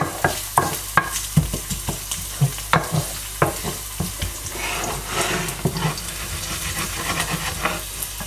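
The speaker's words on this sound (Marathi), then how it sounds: "पण आता लसूण त्याच्यात चांगले फ्राय करून घ्यायचे, पूर्ण त्याचा स्वाद तेलामध्ये उतरला पाहिजे।" Garlic frying in oil sizzles steadily up close while a spoon or spatula repeatedly knocks and scrapes the pan in irregular sharp clacks over the hissing.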